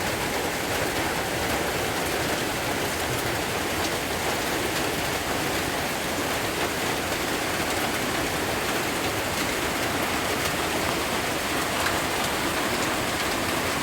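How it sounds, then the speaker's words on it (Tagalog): Steady rain falls in a dense, even hiss, loud and unbroken from start to finish with no voices. "Medyo maulan guys, kaya madilim."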